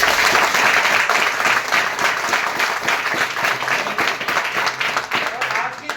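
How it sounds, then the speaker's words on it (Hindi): A hall audience gives loud, dense applause for guests at a motivational event, many hands clapping steadily and close for the whole stretch, with voices mixed in beneath. "मैं सभी फाइटर्स से चाहूंगा एक बार हमारे आए हुए अतिथि के लिए जोरदार तालियां होंगी"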